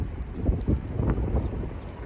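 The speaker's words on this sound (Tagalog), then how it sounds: "narinig yung hangin guys, ang lakas" Strong, cold wind buffets the microphone in uneven low gusts and rumbles, a rough close-up roar that swells and dips without letting up.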